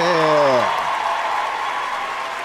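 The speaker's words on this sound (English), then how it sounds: "give him a round of applause" An audience breaks into a sustained round of applause, steady and fairly loud, after a brief voice at the start.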